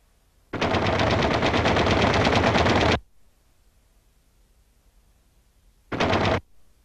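Twin .50 caliber tail machine guns on a B-25 Mitchell fire a long, loud, rapid burst of about two and a half seconds, then a shorter burst after a silent gap.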